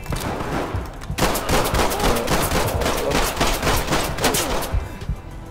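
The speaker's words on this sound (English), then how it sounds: "I don't know where he's shooting me from." Rapid automatic gunfire from a Fortnite match rattles in dense bursts for several seconds, loud and sustained, with a short quieter gap at the start and a fade near the end.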